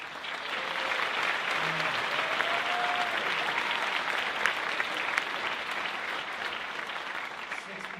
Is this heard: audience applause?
yes